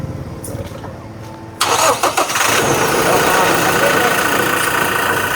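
A car engine turns over and catches after a short crank, then runs at a steady, close idle, with people talking nearby before and during the start.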